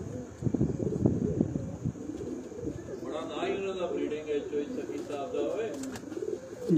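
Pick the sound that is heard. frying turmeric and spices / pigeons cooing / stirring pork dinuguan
pigeons cooing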